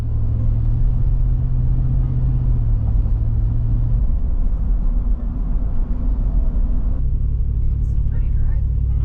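A car drives through a state park near Pine Mountain, Georgia, giving a steady, close low road rumble that continues throughout, with voices faintly present.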